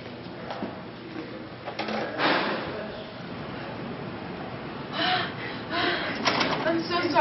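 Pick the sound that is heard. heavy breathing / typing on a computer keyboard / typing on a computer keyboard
heavy breathing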